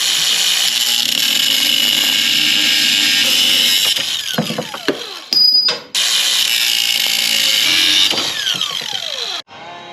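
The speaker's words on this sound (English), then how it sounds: "you just take your grinder and cut down the line" An angle grinder cuts through a threaded rod during work on a supercharged Tacoma prerunner, giving a loud, sustained high whine that breaks off twice briefly before the cut resumes.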